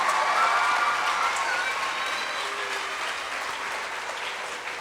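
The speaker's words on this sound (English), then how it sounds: "Let's give a huge round of applause to our much-beloved loved teacher" An audience gives teacher Srimati Anu a warm round of applause at a ceremony, with dense, even clapping that stays full and steady and eases slightly toward the end.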